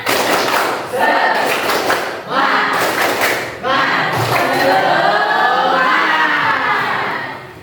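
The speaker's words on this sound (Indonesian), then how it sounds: "Kita tepuk semangat dulu, boleh?" A group of tired participants does a rhythmic spirit clap during an icebreaker, loud bursts of clapping and shouting in quick rhythmic sections that fill the room, with voices mixed throughout.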